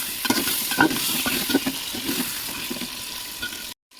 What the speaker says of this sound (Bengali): এইবারে মশলা বাটা ধোয়া গোলা জলটা দিয়ে দেবো।